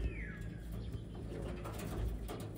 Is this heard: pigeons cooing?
yes